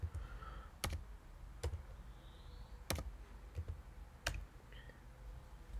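A few separate, sharp keystrokes on a computer keyboard, spaced about a second apart, as a password from an SMS token is entered in a quiet room.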